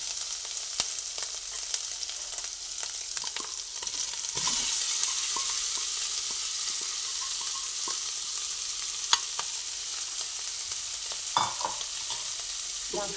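Marinated chicken pieces fry in a pan over a lowered gas flame, making a continuous close sizzle with occasional sharp clinks and scrapes as the meat is stirred.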